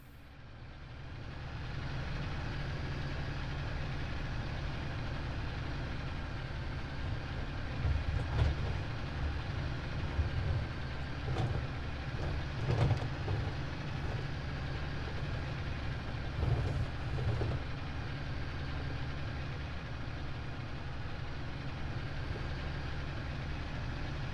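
Tractor engine in a farm simulator game runs steadily for the whole stretch, a low rumbling drone with a few louder surges as it labours for grip on the ground.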